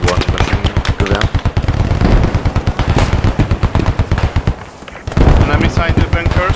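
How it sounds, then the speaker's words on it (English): Rapid bursts of machine-gun fire rattle from a church tower in the Post Scriptum war game, loud close rhythmic volleys with a brief pause before shooting resumes. "The church tower is one gunner and one machine gun."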